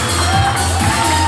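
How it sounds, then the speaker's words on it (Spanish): Crowd at a fashion show cheering and whooping for the night's designer, loud excited shouts and cheers rising in waves, fairly close, with no clear clapping standing out. "Un fuerte aplauso para Nati Bernero."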